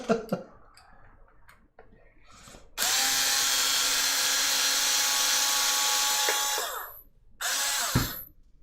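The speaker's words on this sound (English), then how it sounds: "I got this fancy driver from Home Depot. Ryobi style." A Ryobi power driver whirs at a steady high pitch for about four seconds, stops, then runs again in a shorter burst, close and loud after a few faint clicks and taps.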